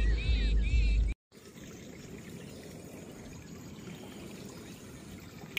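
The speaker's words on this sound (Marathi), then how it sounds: "वाड्याला पाणी बघा कसं चालू झालेलं आहे." Well water running through a farm pipeline into a field channel gives a steady, broadband rushing flow after a brief silent gap, with a louder burst of other sound at the very start.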